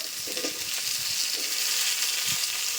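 Onion and garlic frying in a pan while being stirred, a soft continuous sizzle with faint scraping and utensil movements underneath, fairly quiet and close, no speech.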